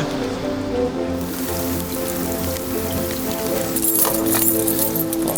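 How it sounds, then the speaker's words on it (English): Heavy storm rain pours down at Leeds railway station, a steady dense patter and splashing on hard surfaces with a low hum underneath, the drumming growing louder and brighter toward the end, no voices. "Torrential downpours in certain areas, isn't it?"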